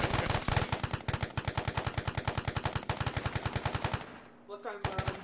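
Rapid automatic gunfire in the video game Arma 3, a dense, loud, evenly spaced stream of shots that runs for several seconds, then breaks off briefly before a few more bursts.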